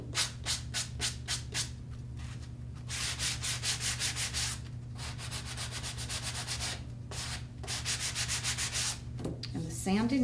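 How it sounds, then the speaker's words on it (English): Hand sanding of a wooden craft piece, close scratchy rubbing strokes in quick bursts, some short and rhythmic, others in longer steady runs, with a faint hum underneath and no speech. "sand the back a little bit, take down the darkness of it, sand the top,"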